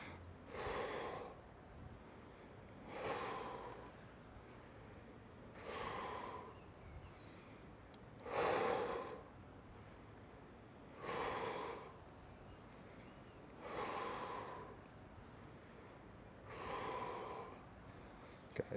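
Heavy rhythmic breathing during a torso-rotation workout: seven evenly spaced, forceful breaths, close and fairly quiet, with no speech.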